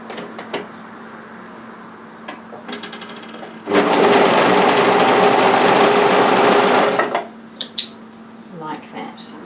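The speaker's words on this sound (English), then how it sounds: "I'm going to overlock together those two short edges" An overlocker runs in one loud, steady burst of about three seconds as two short fabric edges of a draped cardigan are serged together, with quieter handling noises and brief rustles before and after.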